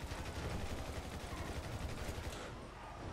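Sustained bullpup rifle fire in GTA V, a dense, continuous rattle of rapid shots at steady loudness throughout, thinning slightly near the end.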